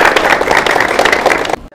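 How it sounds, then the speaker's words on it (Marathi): An audience at an MPSC quiz show in a study hall in Amravati breaks into loud, dense applause, with continuous clapping that carries on steadily before cutting off abruptly. "तर जोरदार टाळ्या होऊ द्या एकदा."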